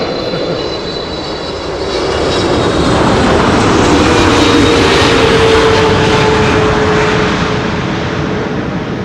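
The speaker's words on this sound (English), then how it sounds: "This is China Airlines cargo arriving from Mumbai. Flight 5685, 777 freighter" A China Airlines Boeing 777 freighter, arriving from Mumbai, lands on runway 06 at Amsterdam Schiphol with a loud, sustained engine roar that builds and holds close by, with no voices.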